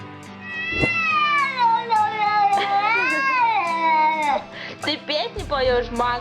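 A cat yowls angrily in a long drawn-out series of rising and falling meows and caterwauls, loud and close, with brief pauses between cries.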